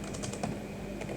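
Quick bursts of keystrokes on a computer keyboard as a network command is entered, close and clear with a few brief pauses and no voices.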